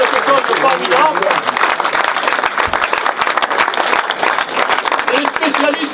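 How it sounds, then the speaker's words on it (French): An audience applauds the master ironworker Johan Fardeau at a gathering, with dense, sustained clapping filling the room and voices carrying over it. "Vous pouvez l'applaudir, parce qu'il a fait quelque chose de formidable"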